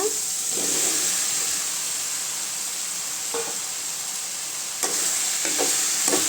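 Mushrooms for a mushroom curry fry in a pan, giving a steady loud sizzle and hiss, with a few brief spoon scrapes and clinks as the pan is stirred.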